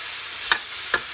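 Pork steak and sausage browning in a pan for a tomato gravy, with a steady quiet sizzle and two short scraping stirs.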